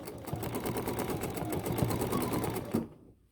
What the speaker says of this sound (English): The motor sounds like something you can live with. And you just make some curves and curlies.